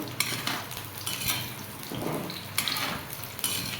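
A utensil stirs a frying recipe in a pan over a medium-low flame, making scattered clinks and scrapes against metal over a soft, steady sizzle.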